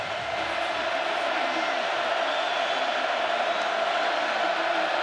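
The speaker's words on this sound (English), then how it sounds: "Nebraska crowd rises again on a third down." A Nebraska football stadium crowd roars on a third down, a dense sustained wall of cheering and whooping that stays loud and constant throughout.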